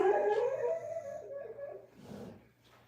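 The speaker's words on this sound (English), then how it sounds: "My dogs be dreaming. I don't know what they be dreaming about, man." A sleeping dog whimpers and whines while dreaming, a series of soft high nasal cries and wheezy breaths that fade quieter toward the end.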